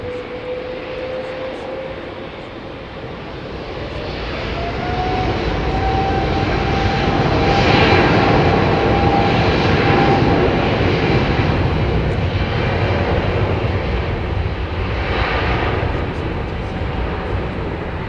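An airliner's Rolls-Royce Trent 7000 jet engines roar at Heathrow Airport, a loud, broad, sustained rush with a rising tonal whine that swells and holds for many seconds.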